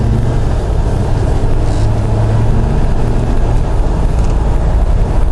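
A Jeep JK with an LS 5.3 engine cruising on the highway, a loud, steady low engine and road drone with wind noise throughout.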